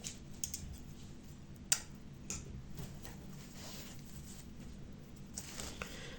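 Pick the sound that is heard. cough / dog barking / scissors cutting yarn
scissors cutting yarn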